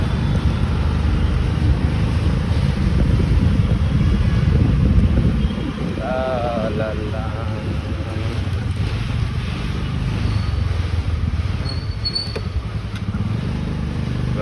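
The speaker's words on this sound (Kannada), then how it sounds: "ಗಾಳಿ ಬೇರೆ, ತುಂಬ ಗಾಳಿ ಇದೆ" Heavy wind buffets the microphone while travelling along a road near Attibele toll, a continuous loud rumble and roar that eases slightly midway and never lets up.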